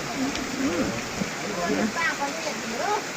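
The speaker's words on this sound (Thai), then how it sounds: "โอ้ยฝนสาดด้วยครับฝนสาดด้วย" Heavy rain pours down beside a hut at a rice field, a steady wash of noise throughout while people talk over it.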